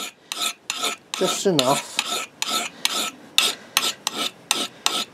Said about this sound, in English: Just with the rasp you can put a lovely edge on an axe.